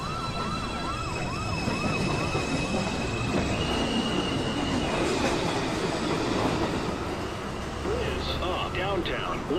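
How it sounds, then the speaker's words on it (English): A New York City subway 2 train pulls into the elevated 207th Street station with a loud, continuous rumble of wheels on rails, shrill squeals from the wheels, and a broad roar that fills the whole stretch. "This is a Manhattan-bound 2 train."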